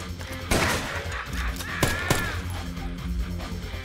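Gunfire aimed at a boss in the game Dead Rising: several sharp, loud shots, one near the start and two close together later, over a steady din of background game noise.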